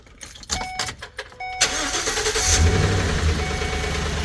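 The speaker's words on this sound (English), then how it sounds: "there you heard the motor making noise" A car engine cranks in short bursts, then catches and settles into a steady idle, running right after a spark plug replacement on an engine with a misfire and rough running; loud and close, with no speech.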